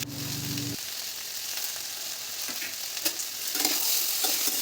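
Mixed vegetables, including jackfruit seeds, frying with cumin, turmeric and salt in an open pan, giving a continuous bright sizzle that swells slightly toward the end, with occasional stirring scrapes and no talk.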